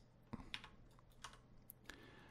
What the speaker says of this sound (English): I'm just gonna hit enter to complete.